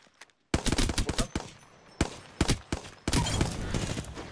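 Video game gunfire crackles in sharp bursts, several close single shots early, then a dense, sustained stream of rapid fire near the end, loud and up front with no talk over it.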